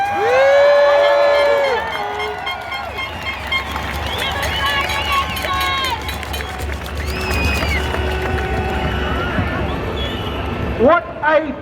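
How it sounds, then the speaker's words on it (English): A crowd at an outdoor rally cheering and shouting, loud and sustained with whoops and individual voices rising above the roar, continuing throughout with a burst of fresh cheers near the end. "What a fantastic crowd."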